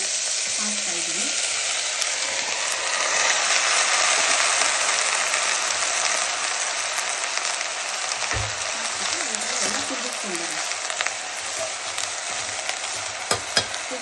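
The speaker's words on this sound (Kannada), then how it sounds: "ಈರುಳ್ಳಿ ನೀಟಾಗಿ ಕಟ್ ಮಾಡ್ಕೊಂಡು ವೆಜಿಟೇಬಲ್ಸ್ ಹಾಕ್ತಾ ಇದ್ದೀನಿ." Onion, tomato and mixed vegetables sizzle steadily in a hot pan for vegetable saagu, with occasional scraping from stirring and no talk.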